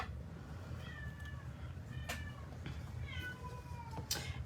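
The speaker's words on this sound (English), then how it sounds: "Excuse my cat. I just gave him a snack and he wants more." A pet cat meows repeatedly, begging for more snacks after being fed, a few drawn-out rising calls spread across the moment, fairly close and clear over a low steady room hum.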